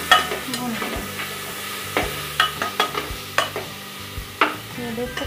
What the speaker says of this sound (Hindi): अदरक लहसुन का पेस्ट हमने ऐड कर दिया, अब इसे भून लेंगे 1-2 मिनट भून लेंगे